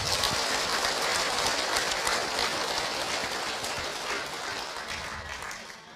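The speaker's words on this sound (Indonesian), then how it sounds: "Tepuk tangan buat Bunda kalau begitu." Audience at a motivational talk clapping for the speaker in a dense, continuous burst that holds steady and then gradually fades toward the end.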